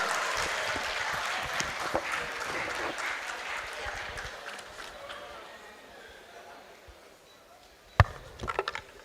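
Audience applause at a bar association law week town hall meeting, a moderate burst of clapping that tapers off, followed by quieter room noise and a couple of sharp knocks near the end.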